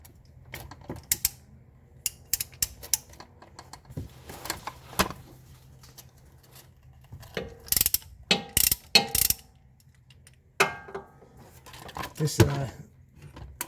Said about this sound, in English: first thing with any refill or drain is get your fill plug cracked open